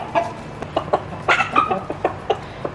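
Chickens cluck and a rooster calls in short bursts nearby, with scattered squawks over a quiet outdoor background.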